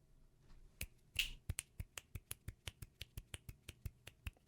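Finger snapping, a string of about fifteen crisp, evenly spaced snaps in a steady rhythm after a couple of scattered opening snaps, close and dry with no talk.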